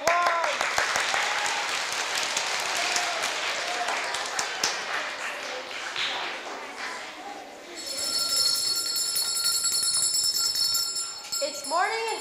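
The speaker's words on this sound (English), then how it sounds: "Big applause." Audience applause at a children's touring theatre production of The Pied Piper of Hamelin, a dense wash of clapping filling the room, thinning out near the end as ringing bell-like tones take over.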